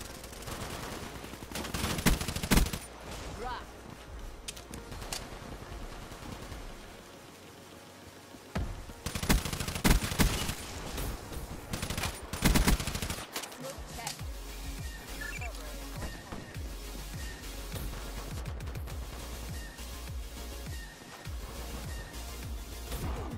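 Gunfire in the shooter Call of Duty: Black Ops 3, with repeated bursts and single shots scattered across the game action, some loud and near, under a steady background of game sound and occasional talking.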